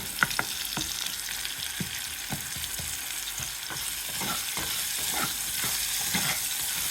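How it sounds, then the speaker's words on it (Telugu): Sliced onions frying in oil on a medium-high flame for a dosa filling, a steady close sizzle broken by repeated scraping stirs and clicks of a spatula against the pan. "ఉల్లిగడ్డలు వేసుకొని మంచిగా ఒక మీడియం టు హై ఫ్లేమ్ మీద ఒక 2 నిమిషాలు మంచిగా ఫ్రై చేసుకుందాం"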